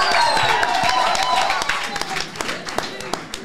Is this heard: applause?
yes